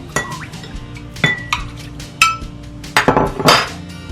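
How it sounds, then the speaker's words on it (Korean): Fresh oysters are swirled by hand in lightly salted water in a bowl, giving a series of sharp clinks and knocks of shells against the bowl and each other, irregular and close, with faint water movement. "굴을 씻을 때는 자칫하면 터질 수 있으니까 손 사이로 살랑살랑 흔들어가면서 씻어주세요"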